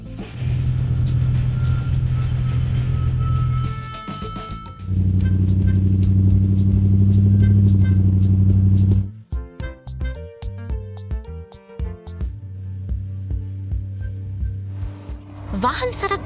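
Cartoon excavators and cargo trucks moving along a road, rumbling engine drones that start and stop in loud stretches, broken by clanks and short electronic beeps, with a narrator speaking over them.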